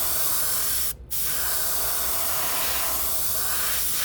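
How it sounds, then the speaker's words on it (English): A spray gun spraying thin paint at low pressure hisses loudly and steadily, broken by one brief pause before the continuous spray resumes, close and alone. "Spray it thin."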